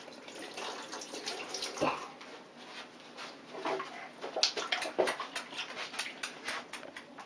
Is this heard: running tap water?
yes